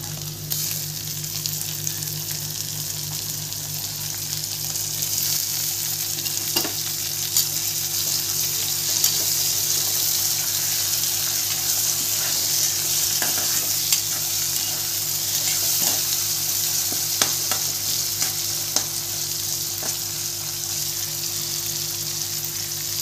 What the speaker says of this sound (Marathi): टोमॅटो टाकते आता.